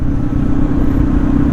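A motorcycle cruising along a road on a trip from Cavite to Batangas gives a steady, loud engine drone with wind rumble, continuous and close, with no talk.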